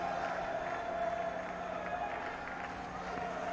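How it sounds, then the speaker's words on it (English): Cricket crowd applauding Virat Kohli's century in a Test match between India and the West Indies, a distant, muffled roar of cheering and clapping under steady stadium noise. "Anil Kumble joining in the applause."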